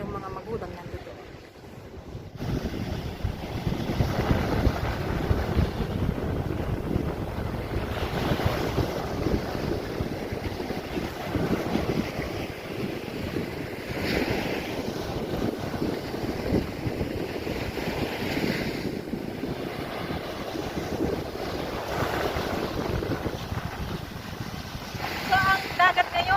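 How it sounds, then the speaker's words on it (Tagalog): Rough, choppy sea waves wash ashore at a beach under strong gusting wind, a steady broad roar with wind buffeting the microphone, moderately loud and continuous. "ang dagat ngayon, ayan makikita nyo, maalon, mahangin"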